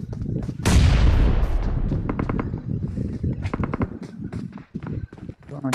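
PUBG Mobile gunfire opens with a loud, close blast and a long decaying boom, then a rapid series of sharp shots crackles on. Someone talks over much of it.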